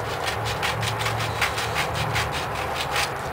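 A Mosin Nagant rifle being hand-sanded all over to prepare it for a Duracoat paint finish: close, steady scratchy rubbing in quick back-and-forth strokes that repeat evenly throughout, with no talking.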